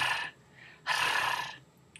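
A rolled-tongue trill imitating a cat's purr comes in two breathy fluttering bursts, the second longer and louder, close to the mic with no talking.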